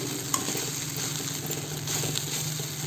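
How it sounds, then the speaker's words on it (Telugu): Idli upma is stirred in a frying pan, a steady close sizzle with soft scraping of the spoon through the crumbled idli, continuous and fairly loud without talk. "ఒక 2 నిమిషాల పాటు ఇట్లా బాగా కలుపుతూ ఉండాలండి."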